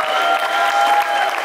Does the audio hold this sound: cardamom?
no